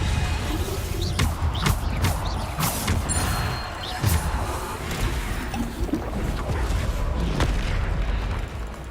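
Bombarda spell explosions in Hogwarts Legacy go off in a rapid series of loud, sharp booms. The blasts come in bunches, with a few more spaced out later on.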